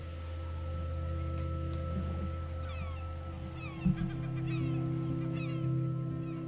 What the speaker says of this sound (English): I thought that seagull sound was my cat.